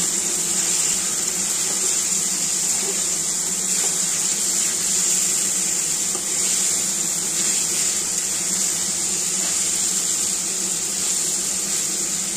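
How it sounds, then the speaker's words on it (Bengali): Water is poured into a pan of egg curry cooking in oil-released masala, a steady, continuous rushing flow lasting several seconds with no pauses and no talking. "এখন আমি জল দিয়ে দেবো।"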